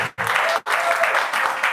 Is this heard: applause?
yes